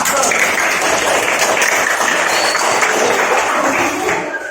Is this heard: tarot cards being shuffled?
no